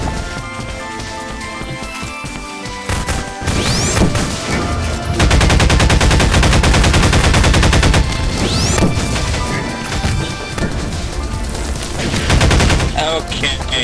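Rapid automatic rifle fire from an AK in a video game, loud, dense bursts that swell and fade across the clip, with sharp repeated shots and a brief lull near the middle.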